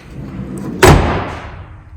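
A single heavy Chevrolet Silverado pickup door, with sound deadening installed, slams shut with a solid thud, close by, after a brief quiet lead-in, and the sound fades out gradually.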